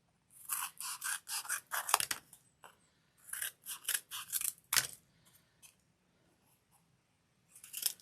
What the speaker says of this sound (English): We're going to cut some triangular shapes.